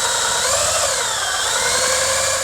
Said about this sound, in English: So I'm starting with a 1/2 inch drill bit, and we're going to drill a big hole right here.